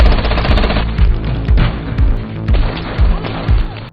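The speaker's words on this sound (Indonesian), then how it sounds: "pasukan bayaran Nichols di bawah pimpinan Stone menyerbu Jack yang memasuki perkebunan dan baku tembak pun terjadi" A firefight scene in a film on a plantation, where mercenaries storm in and exchange fire, brings loud, rapid bursts of gunshots and impacts over a music score, close and dense throughout.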